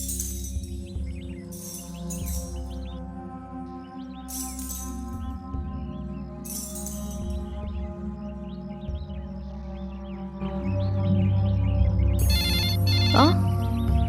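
A telephone rings in repeated bursts of electronic trilling, spaced by pauses, over a steady bed of sustained musical tones, with people talking toward the end.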